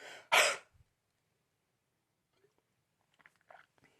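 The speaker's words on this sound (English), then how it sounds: "you're just doing just a hard breath impulse, and then you swallow it down" During a Balkan vocal technique class, a single sharp, forceful breath impulse clears the throat, followed after a quiet pause by faint, soft swallowing sounds.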